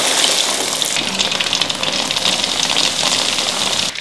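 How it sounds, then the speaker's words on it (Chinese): Breaded chicken legs go into hot oil to deep-fry, producing a loud, steady close-up hiss and bubbling that swells after the first second and carries on without a break. "鸡腿加上面包糠之后，马上下锅，要不然它会掉。"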